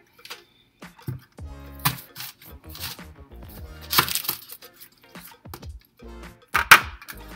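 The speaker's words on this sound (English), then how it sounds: "Let's start off with chopping the onion." An onion is chopped with a knife for Filipino sautéed bitter melon with tomatoes and egg, giving a run of close, irregular knife knocks on a cutting board with brief pauses between bursts.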